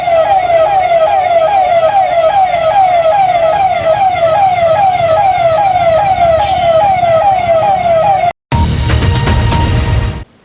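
A loud electronic siren wails at Kali Putli Chowk, a city intersection, in a fast steady up-down cycle for about eight seconds, then cuts out briefly and gives way to a burst of harsh broadband noise.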